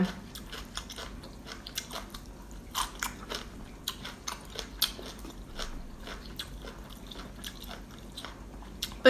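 Loud close chewing and crunching of khanom jeen eaten with pickled vegetables, a continuous run of wet bites and crisp crunches with no talk.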